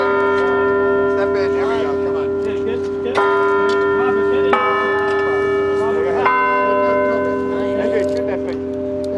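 Bells in a park bell tower ring at a city ceremony, several struck tones with long ringing overtones sounding one after another at irregular intervals over a steady background, loud and resonant throughout.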